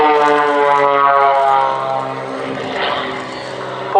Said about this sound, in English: Two Extreme Air XA-41s, two fantastic aerobatic pilots.